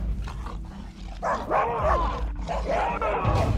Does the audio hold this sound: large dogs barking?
yes